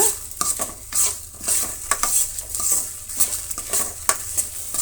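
Dried red chillies, asafoetida and jaggery frying in a pan for curry leaf chutney, with close, crackly sizzling and repeated scraping stirs of a spoon against the metal.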